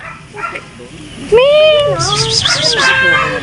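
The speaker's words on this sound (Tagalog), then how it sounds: "may pusa" A cat meows on a riverside dike after a typhoon. The drawn-out cries rise and fall in pitch and come close and fairly loud, mixed with people talking nearby.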